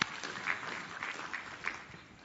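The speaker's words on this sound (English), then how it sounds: "we will give her a nice round of applause" A short burst of audience applause at a caucus plenary session, steady, moderately distant clapping lasting about two seconds and tapering off at the end.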